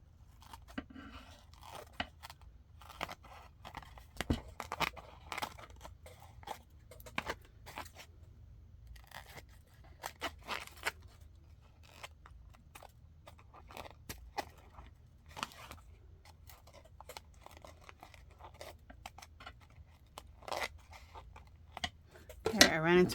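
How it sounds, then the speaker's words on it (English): Tim Holtz scissors trim a paper journaling tag and cut through a small embedded gem embellishment: close, crunchy snips and scrapes over a low steady hum, with a louder burst at the end. "those scissors go right through that little gem"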